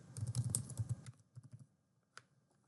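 Computer keyboard keys tapped as a password is entered, a quick burst of clustered clicks followed by a few sparser keystrokes and one final sharp press, close and fairly quiet with no voices.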